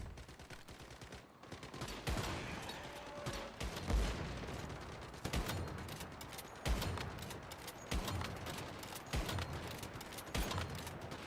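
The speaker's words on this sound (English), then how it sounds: "Oh, he built the Gatling gun, and the Gatling gun actually does more damage." Gatling gun fire in the survival shooter Once Human: dense, rapid bursts of gunfire with sharp repeated shot transients over a steady din of battle, fairly loud and continuous throughout.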